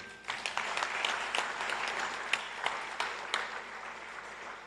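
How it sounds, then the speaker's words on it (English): An audience applauds the Deputy Minister of Transport at a bicycle distribution event, a steady wash of many hands clapping, somewhat distant and even, with scattered sharper claps. "Can we give a round of applause to the Deputy Minister?"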